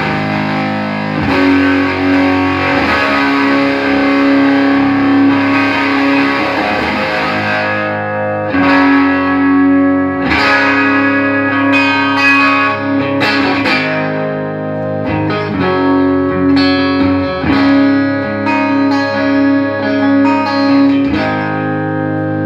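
Electric guitar run through a fuzz pedal with the guitar's volume knob at full, playing loud, thick, saturated chords and notes in sustained phrases with brief pauses, no voices.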